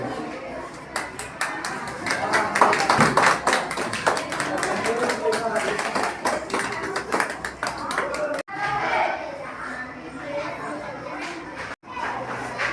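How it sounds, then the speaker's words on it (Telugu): Students at a gurukul school in Gooty clap together in a long, steady burst of applause that fills the room, with chatter and voices mixed in and two brief breaks near the end. "క్లాప్"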